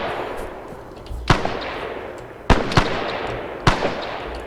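Grenades explode in ArmA 3 combat, sounding as several sharp, loud blasts spaced a second or so apart over a constant background rumble of battle.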